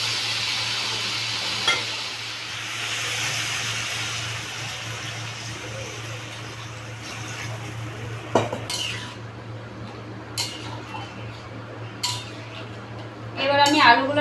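A cooking pot handled on the stove while spiced fish and potato curry is prepared, with a few clear clinks of metal as the lid is set on and lifted, over a steady low hum and faint background talk.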